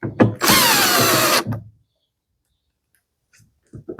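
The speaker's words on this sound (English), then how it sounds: "Put the screws back in" A power drill drives screws back into a farm mower deck during a switch repair, one loud whirring burst of about a second, close by, then quiet with a few small clicks.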